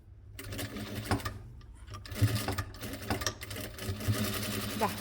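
A sewing machine stitches across a fabric bag corner marked at one and a half inches, a close, rattling run of needle strokes that speeds up and slows in short bursts.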